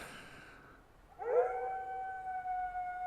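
A wolf howls in theHunter: Call of the Wild on Askiy Ridge, starting after a quiet moment with a short rising yelp into a long, sustained, fairly close howl that carries on to the end, with no voices.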